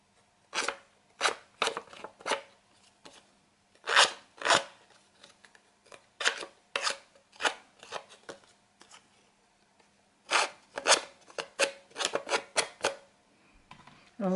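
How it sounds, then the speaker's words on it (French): Edges of scrapbooking paper being distressed by hand, a series of short, crisp scraping and snipping strokes in quick bursts, close and fairly quiet, with pauses between groups and no talking. "Je vais user les bords également."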